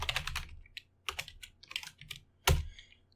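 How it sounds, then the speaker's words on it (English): Keys clacking on a computer keyboard as a Python string is entered, in close, loud bursts of rapid keystrokes separated by short pauses, with one sharp hard press near the end. "we can just type here enter any string you want"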